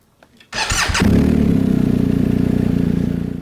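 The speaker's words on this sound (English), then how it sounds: "Press the ignition and you'll see it fire up." A BMW GSA 1250 motorcycle with keyless ignition fires up: a brief starter whir, then the engine catches and settles into a loud, close, steady idle with rapid pulsing exhaust beats.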